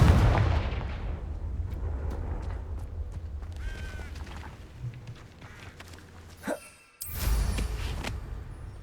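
A Confringo fire spell blasts in Hogwarts Legacy, with a deep booming burst at the start over a low rumble, a few scattered cracks and impacts afterward, and a second loud explosive hit near the end.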